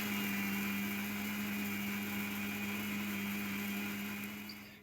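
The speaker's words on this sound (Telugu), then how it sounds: "అందులోనే మళ్ళీ మరమరాలు కూడా వేసుకొని మిక్సీ పట్టేద్దాం" Mixer grinder blending puffed rice with cardamom and fennel into fine powder, a steady high-pitched motor whine with a constant hum running unbroken, then tapering slightly at the end.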